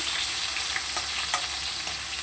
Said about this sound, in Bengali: আলুটাকে বেশ সুন্দর করে উল্টে পাল্টে দেখো ভেজে নিচ্ছি